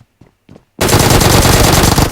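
Uzi submachine gun firing in the video game PUBG Mobile: after a few faint short clicks, a loud, rapid continuous burst of automatic fire fills the rest of the moment.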